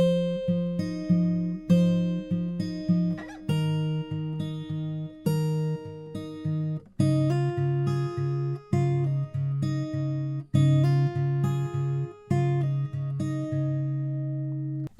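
Fingerpicked acoustic guitar playing the verse of a song, a steady picked pattern of bass notes and ringing treble strings, played alone at a moderate level.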